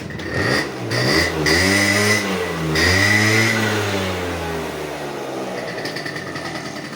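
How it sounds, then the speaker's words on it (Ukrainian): A warm Honda Via 50 scooter engine revs up close by, climbing in pitch, holding, then dipping and rising again before settling back toward idle, with no talking. "Чуть газку, бо вона вже тепленька."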